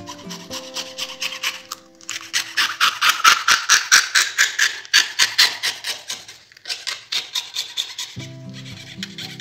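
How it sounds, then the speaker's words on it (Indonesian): A hand saw cuts through a plastic milk bottle in steady back-and-forth strokes, each a close, rasping scrape repeating rhythmically with a few brief pauses between runs. "Kita potong pakai gergaji aja lebih mudah."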